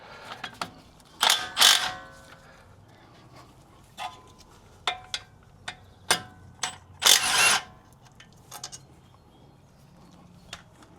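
A short 13mm socket on an impact tool works the brake caliper bolts of a Jeep, giving bursts of ratcheting, clanking metal interspersed with taps and clicks, close and fairly loud with quiet gaps.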